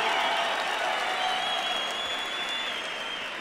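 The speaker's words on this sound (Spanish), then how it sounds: "Aplauso fuerte, por favor." Strong, sustained applause from the audience at a FMS Chile freestyle rap battle playoff. Broad, even clapping fills the whole span and fades slightly toward the end, with no words spoken.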